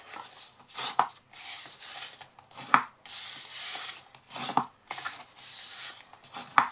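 Paper being folded and burnished by hand for a simple classic gift box, close scraping rubs in uneven strokes with brief pauses between them.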